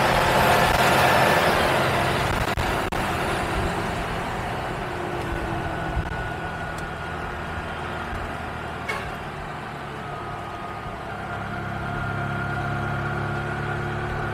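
A bus rolls along the road with a steady, fairly loud engine drone that eases slightly midway and then swells again, with no talk over it.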